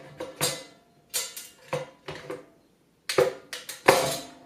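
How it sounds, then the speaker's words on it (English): An enamel liner pan is set into the base of a Nuwave Pro Plus infrared oven, giving several close, sharp clanks and taps of metal on plastic with short quiet gaps in between. "The enamel liner pan goes next."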